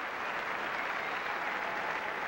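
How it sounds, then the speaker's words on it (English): Steady applause from a large tennis crowd at Roland Garros' Court Suzanne Lenglen, a dense continuous wash of clapping that holds at an even level throughout. "Martina Hingis acknowledging the applause here"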